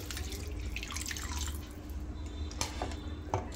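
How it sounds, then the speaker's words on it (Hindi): Water poured into a pot of spiced rice with tomato and chilli, a continuous close splashing pour with some clinks of the pot, no talking. "अब ऐड करेंगे इसके अंदर पानी।"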